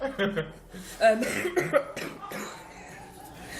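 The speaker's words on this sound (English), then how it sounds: "It's a dry cough." A few sharp, dry coughs in quick succession, close to the microphone, followed by quieter breathy sounds.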